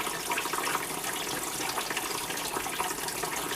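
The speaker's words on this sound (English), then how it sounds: "Water on hot because I want it on hot to help rinse the hamburger fat away." Hot water pours steadily from a kitchen tap, rinsing fat from cooked ground beef, a continuous hissing splash close by with no voices.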